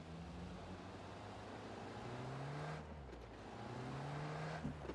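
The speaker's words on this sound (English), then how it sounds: "He's getting his car and off he drives." A car in a competitive video game match drives off, its engine loud and steady with rising revs and gear shifts, alone without talk.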